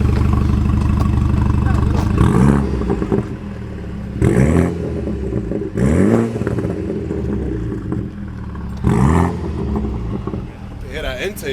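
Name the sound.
BMW F31 exhaust burble with CTS catted downpipe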